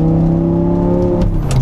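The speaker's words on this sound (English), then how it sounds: "listen to this, because this is one of the finest engines ever made in a car" A V10 car engine revs nearby, a loud, steady harmonic drone that holds for over a second and then shifts as the revs change, with no talk over it.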